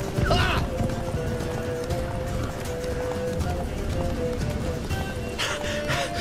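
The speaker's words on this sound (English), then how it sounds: "Run, Roach" Horse hooves clopping at a run in The Witcher 3 video game, steady under music and game ambience, with a brief whinny near the start.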